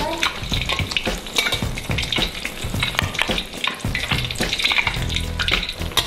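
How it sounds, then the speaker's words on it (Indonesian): A fu yung hai egg omelette fries loudly in oil in a pan, a dense close crackling sizzle with scraping stirs and turning sounds throughout, no talking. "Udah digoreng kayak gini berasa jadi telur dadar yang mewah gitu kan"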